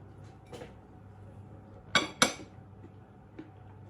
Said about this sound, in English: So I'm putting some peanut butter on there now.